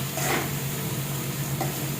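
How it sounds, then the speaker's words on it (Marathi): Green chillies sauté with salt in hot oil, producing a steady, even sizzle up close with a couple of soft stirring strokes and no talk. "हिरवी मिरची छान परतली तेलामध्ये"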